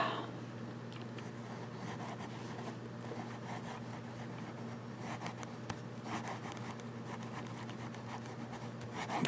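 A Diplomat Magnum fountain pen with a fine nib scratches across paper in soft, close, continuous strokes, with faint irregular scuffs and a low background hum.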